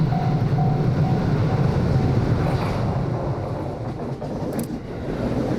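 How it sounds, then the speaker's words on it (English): A steady low rumble of a train rolling past nearby on an Osaka street, continuous and heavy, with a faint tonal whine drifting above it. "And there's another train coming. I can hear it, I can feel it."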